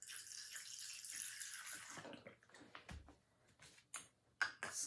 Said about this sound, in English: We're going to add a bit of water to this